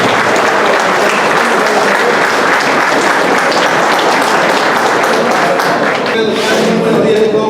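A seated audience at a criminal law diploma course gives a lecturer a loud, sustained round of applause that keeps a steady intensity throughout.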